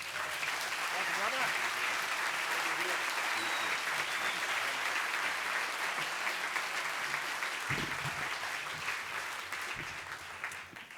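Warm audience applause welcoming a guest speaker at a talk on the teenage brain, dense steady clapping from a large crowd that gradually thins toward the end.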